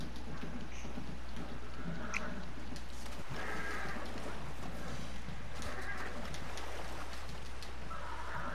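Horse in a video game, with soft hoof clip-clops and a brief whinny over steady rain and ambient noise, moving through swampy terrain near an alligator.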